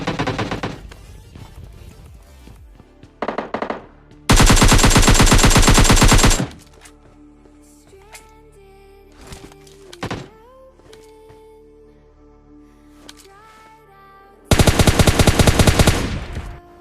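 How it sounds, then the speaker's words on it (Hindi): Automatic gunfire in a battle royale mobile game fight comes in two long, loud bursts, with shorter volleys and single shots between them and quieter in-game clatter and thumps in the pauses. "अब तुम बस फाइट के गन साउंड सुनना और भाई आप लोगों को अपने आप पता लग जाएगा"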